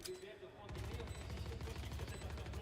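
Rapid gunfire in Valorant during a tournament quarterfinal match, a dense burst of shots rattling continuously after a brief quieter lead-in, somewhat muted and steady.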